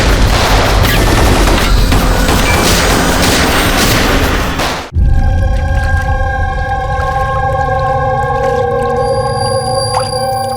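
Gunfire in a TV drama shootout from the Indian crime series CID, a dense roaring volley of shots for about five seconds, then an abrupt cut to a quieter tonal scene.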